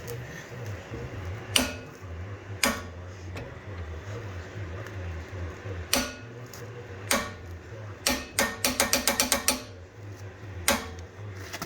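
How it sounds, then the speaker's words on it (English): Ratcheting torque wrench tightening rear suspension bolts on a 1984 C4 Corvette, with sharp clicks spaced apart and then a quick burst of rapid clicks, close by over a low background hum. "I'm going to torque it."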